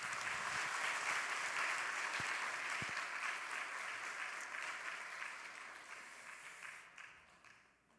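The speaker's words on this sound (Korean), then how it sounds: "다시 한번 큰 박수 해주시기 바랍니다." Church congregation claps in a broad, even roar of applause that holds steady, then gradually fades toward the end, fairly distant and soft overall.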